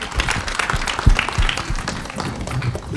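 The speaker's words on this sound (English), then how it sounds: "A big round of applause, ladies and gentlemen" Audience applause at a Hindi audio launch event for the film 'I', a dense, loud crowd clapping that fills the space steadily, with scattered louder claps and faint voices mixed in.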